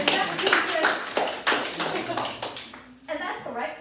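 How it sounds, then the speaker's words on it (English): Audience applause at a vision training session: a burst of broad, dense clapping with sharp hand strikes, fading after about three seconds, then a second quieter patch of clapping near the end. "Give him a round of applause."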